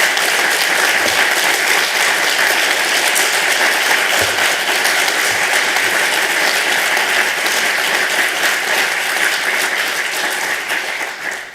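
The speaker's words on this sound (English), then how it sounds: "That applause is for all of you" Loud, sustained applause fills a hall at the Scottish Greens Autumn Conference, a thick roar of many hands clapping continuously from a large audience, easing slightly toward the end.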